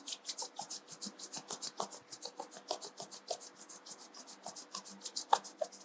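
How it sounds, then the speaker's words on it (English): Two palms rubbed briskly together, close up, making a fast, even series of dry swishing strokes that continue without pause. "Now, join your both palm together. Rub your palm."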